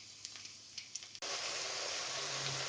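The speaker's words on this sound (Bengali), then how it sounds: "পেঁয়াজগুলো আমি 3-4 মিনিটের মতো ভেজে নিয়েছি।" Onions hit hot oil for a Bangladeshi egg curry, jumping from a quiet background with faint clinks into a loud, dense, steady sizzle that continues to the end.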